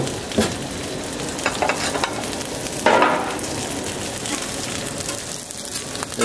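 Eggs frying in vegetable oil on a Camp Chef flat top griddle give a steady, close sizzle and crackle, with a few brief louder bursts and spatula scrapes. No voices are heard.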